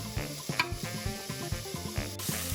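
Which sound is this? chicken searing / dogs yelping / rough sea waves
chicken searing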